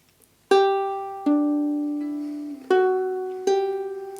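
Ukulele picking a short verse phrase from "Hard Times Come Again No More", with four clear plucked notes ringing out one after another and each one decaying slowly, played alone and close.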